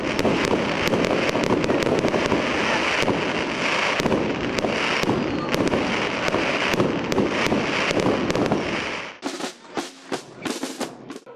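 Fireworks burst over a Christmas market opening as holiday lights are switched on in Romania, a dense rapid crackle of bangs for most of the stretch, then a few separate louder pops near the end.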